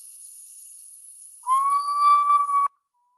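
A camouflaged nocturnal bird's call is played back: a single sustained, clear whistle lasting about a second, steady in pitch with a slight rise at the start, cutting off abruptly over a faint background hiss.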